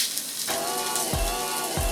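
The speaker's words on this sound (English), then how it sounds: "starting to get a little bit of a sizzle on those sausages." A steady, soft sizzle and crackle of sausages frying on a hot electric grill, with a few faint low thumps, close and continuous.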